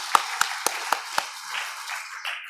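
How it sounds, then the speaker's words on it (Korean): A congregation claps during a church service, giving about five sharp, evenly spaced claps followed by a softer, blurred wash of clapping. "하나님께 박수 한번 주세요."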